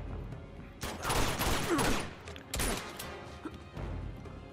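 Gunfire in Uncharted 2: Among Thieves during a firefight, a few heavy shots and crashing bursts at moderate loudness with quieter gaps between them.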